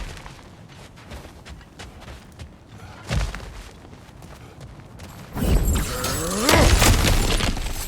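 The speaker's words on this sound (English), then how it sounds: "back to smashing through things for fun and profit" Ground cracking and shattering as it is smashed through in the video game God of War Ragnarök, with a heavy crash partway in and then a loud, rumbling burst of breaking debris that builds toward the end.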